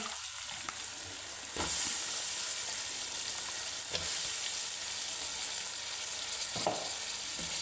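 Continuous sizzle of thin, long-cut potato strips frying in hot masala for an aloo baingan curry, with a few louder bursts and stirring scrapes along the way; close and clear, no voices.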